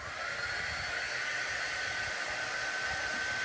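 Heat tool blowing steadily over craft paint, a constant airy whoosh at moderate volume with no breaks and no voices.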